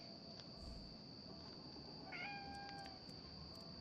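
A cat in the video game Conarium gives a short, thin meow, faint and brief over a steady electronic hum, with a few light clicks around it.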